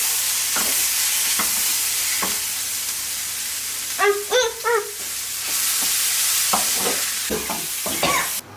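Samosa masala is stirred and fried in a pan, with scattered scraping strokes of the spoon over a soft sizzle, a cluster of quick clinking scrapes in the middle and a few more toward the end.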